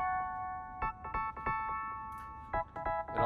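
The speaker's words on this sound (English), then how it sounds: "The Wurlitzer by itself sounds like this." Wurlitzer electric piano preset playing alone, sustained mellow chord tones with a series of soft plucked note attacks on top, gentle and close.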